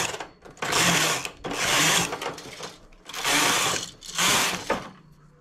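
A knitting machine carriage working lace and decreasing side needles for a round neckline, making four loud, rhythmic whooshing passes with brief pauses between them, up close with no talking.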